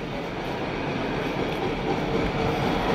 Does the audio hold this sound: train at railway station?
yes